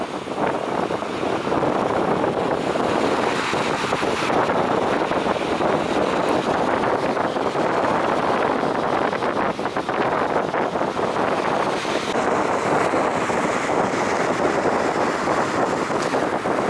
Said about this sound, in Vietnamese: gió hiện tại thì thổi nhiều lắm, với cái tốc độ là đâu đó thì nó cũng gần 30 km/h ha